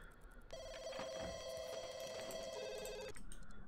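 A telephone in The Sims 2 rings in one sustained electronic trill lasting a few seconds, loud and close, with no talk over it.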